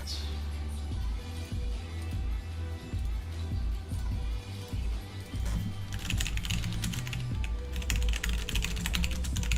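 Computer keys clatter in quick irregular bursts, close and clear, turning denser toward the end over a low background hum.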